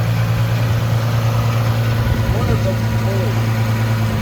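A Nissan VQ35HR engine runs at its first start-up, a steady close idle hum with a constant low drone. Brief faint voices sit under it.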